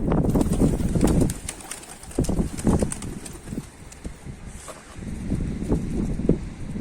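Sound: pigeon

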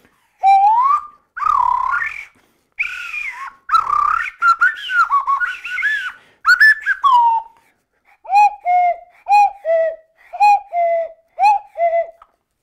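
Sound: Kurpie wooden slide flute imitating birdsong

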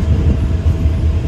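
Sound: local passenger train running

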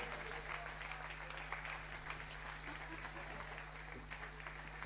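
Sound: audience applause

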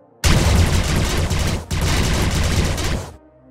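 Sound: blaster pistol firing in video game Star Wars: The Old Republic

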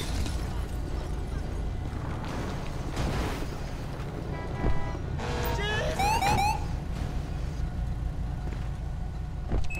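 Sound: ambulance siren in video game Grand Theft Auto 5

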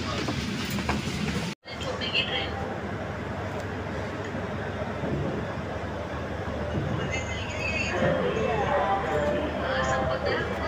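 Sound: Double decker express train running, Jaipur to Delhi

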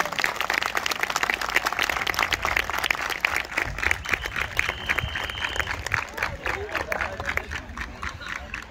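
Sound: applause

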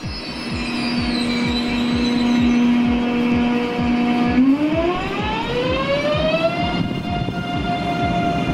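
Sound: trains, ICE 3 Velaro, at Frankfurt (Main) main station

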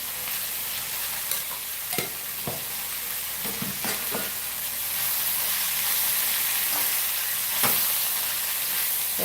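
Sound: sautéing tomato and chili masala in a pan

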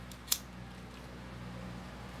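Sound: scissors cutting excess ribbon for a bow

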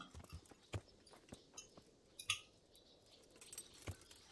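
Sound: horse hooves clip-clopping in video game Kingdom Come Deliverance

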